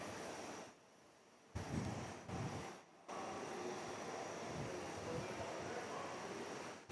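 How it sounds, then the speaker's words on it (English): A Qantas Airbus A321neo taxis at Perth airport, its engine hum a steady, fairly loud roar with wind buffeting the microphone outdoors and a couple of brief dips in level. "the Qantas A321 Neo taxiing up now"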